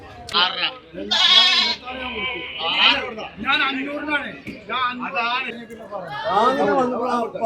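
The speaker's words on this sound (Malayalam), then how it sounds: "ഇതാണ് ആടുകുട്ടികൾ" Young goat kids bleat repeatedly at a crowded livestock market in Chattiparamba, Kerala, with several wavering cries close by and voices talking throughout.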